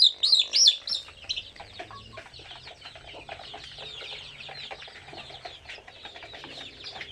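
Farm chickens being fed let out loud high chirps at first, then settle into soft clucking and rapid pecking clicks nearby.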